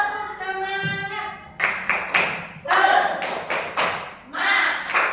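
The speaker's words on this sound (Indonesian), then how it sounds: "Ayo kita tepuk semangat dulu biar tidak lemes, biar semangat." Classroom group clapping the 'tepuk semangat' rhythmic cheer, with bursts of loud, close claps in a patterned rhythm mixed with voices chanting along.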